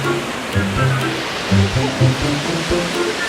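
A waterfall gives a steady, broad rush of falling water from start to finish, while voices talk faintly underneath.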